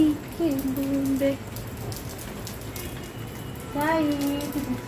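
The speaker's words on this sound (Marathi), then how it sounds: "सई किती छान पाऊस येऊन राहिला ग." Rain falling steadily outdoors, a soft continuous patter heard under someone talking in a sing-song voice.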